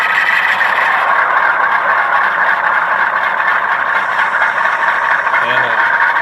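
An HO scale GE C39-8 model locomotive in Conrail paint, a ScaleTrains Rivet Counter model with ESU DCC sound, gives a loud, steady diesel engine drone throughout, with a brief tonal sound near the end.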